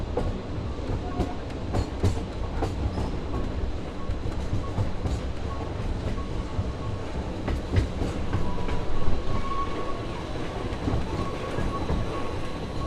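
Halloween ride train rolling steadily along its rails, a continuous rumbling clatter with wheel rattle and occasional squeaks, close and sustained for the whole stretch with no talking.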